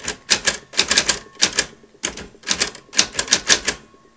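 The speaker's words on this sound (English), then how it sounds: "The feeling of typing is really fun." Keys clack on a We R Memory Keepers typewriter in quick, close bursts of sharp strikes with short pauses between groups, loud and alone.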